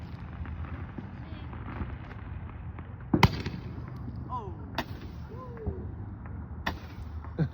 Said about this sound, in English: Come on, Roman candles.